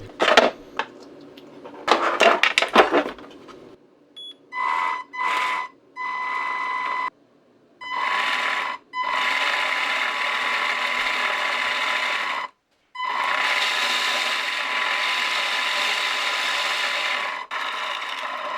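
Toy tank tracks driven by a new gearbox, a whirring, ratcheting motor and gear buzz that starts and stops in short bursts before running in longer stretches, close and fairly loud.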